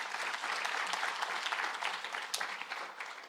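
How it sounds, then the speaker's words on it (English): A conference audience at a financial literacy and wealth-creation event claps in a steady, dense round of applause that holds at an even level throughout, with no talk over it. "a round of applause to him once again."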